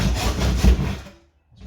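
A hand saw cuts wood to length for kitchen doors, giving a short burst of rasping strokes close by that stops abruptly after about a second.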